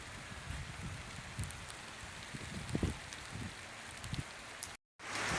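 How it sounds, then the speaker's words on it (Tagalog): Heavy rain with wind pours down over a cornfield during a dove hunt, a dense steady patter with scattered louder drops that briefly cuts out near the end and then resumes. "ang lakas ng ulan at saka hangin"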